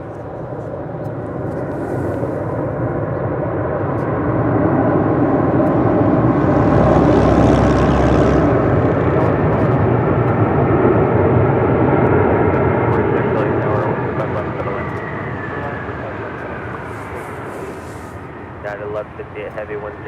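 A heavy jet airliner at LAX roars past, a broad engine rumble swelling to a loud peak midway and then slowly fading as it travels down the runway, with distant airport noise around it.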